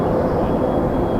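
A Cessna Citation jet on short final to runway 23 at Toronto Pearson in the evening gives a loud, continuous broadband roar that stays steady and close throughout.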